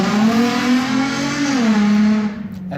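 A car with a 2JZ engine revs hard and accelerates away, a loud rising engine note shifting through gears and fading into the distance near the end, with no talk over it.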